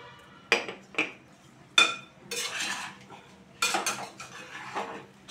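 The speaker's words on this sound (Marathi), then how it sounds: "भाजी अशी चांगली हलवून घ्यायची, चांगली परतून घ्यायची. कलथा अगदी बुडापर्यंत गेला पाहिजे" A spatula scrapes and knocks against a pan while stirring and sautéing Bhogi bhaji vegetables, in a few sharp metallic clinks followed by longer scraping strokes, close and moderately loud with no talk.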